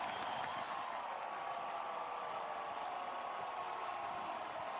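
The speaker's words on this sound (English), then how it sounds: "This Tiger squad is pumped up. Liberty Bowl crowd letting them hear it." A college football crowd at the Liberty Bowl, Memphis against SMU, roars in a distant, continuous wash of cheering that holds steady throughout.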